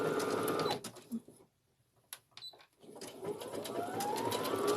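A sewing machine chain-piecing 2.5-inch fabric squares runs in a steady, loud mechanical whir, stops briefly for a near-silent pause with a few clicks, then starts again at full speed.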